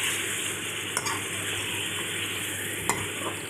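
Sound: chicken frying and being stirred in a pot

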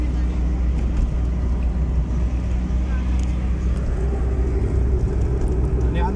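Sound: car engine driving in third gear

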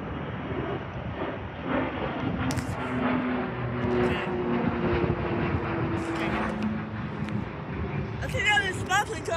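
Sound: airplane on the runway

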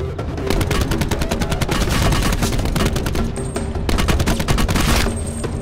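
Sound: gunfire in the video game Black Ops 4 Blackout

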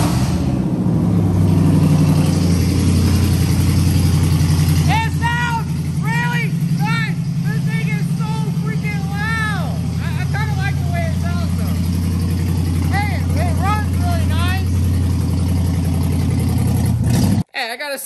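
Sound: Dodge Ram 1500 engine running with straight-pipe exhaust

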